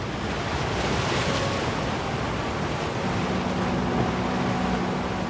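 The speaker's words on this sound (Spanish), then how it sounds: "Tiene el mar, tiene el viento, tiene las olas, tiene la roca y tiene al ser humano." Sea waves and wind at the Peine del Viento sculpture on the rocky shore of San Sebastián, a loud, continuous roar of surf with heavy wind buffeting the microphone throughout.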